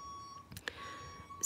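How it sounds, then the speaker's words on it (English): Electronic beeping from an unseen device during an indoor community discussion, a few short bright tones standing out over a steady faint hum, with no talk over them. "Oh, here comes the beeping."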